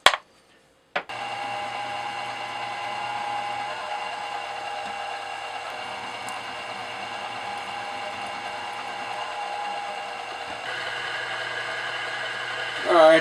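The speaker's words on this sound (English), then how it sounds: "Okay, so 1/4 inch reamer and a little bit of lubrication." Steady machine whir from a machine tool driving a 1/4 inch reamer into a hole in a spindle block, a continuous hum after a short start, fairly close and even.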